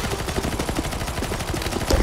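Rapid gunfire in the game CS:GO rattles in dense bursts throughout, mixed in a busy, fairly quiet game soundscape.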